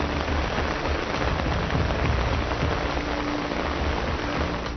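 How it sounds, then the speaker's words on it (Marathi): Heavy cloudburst-like rain in Washim, Maharashtra, a dense, steady roar of downpour drumming on surfaces, loud and unbroken from start to finish. "विदर्भातल्या वाशिममध्येही काही तालुक्यात ढगफुटी सदृश पाऊस कोसळला"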